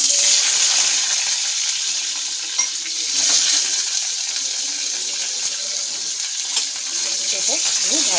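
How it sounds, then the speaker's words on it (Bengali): Potatoes fry in hot oil in a pan, giving a steady close hiss with light scraping and clinking from stirring throughout. "তো এবারে আমি আলু ভাজবো।"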